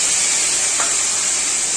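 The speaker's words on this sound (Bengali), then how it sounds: "মশলাটা ভাজা ভাজা করে নিয়ে জল দিয়ে" Spices sizzling in oil in a pan for a Bengali banana-flower fritter curry, a steady bright hiss throughout with a faint soft stir, close and alone.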